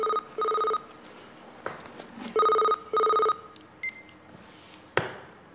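A telephone rings in short repeated bursts, two pairs of loud electronic trills separated by quiet gaps, clear and close with no talk over it.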